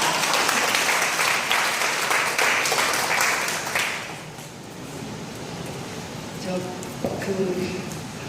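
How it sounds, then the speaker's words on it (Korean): Audience applause fills a lecture hall during a peace talk opposing THAAD deployment at a Daegu YMCA auditorium, loud and dense at first, then thinning to scattered claps with some murmuring. "박수를 치시려면 과감하게 치세요."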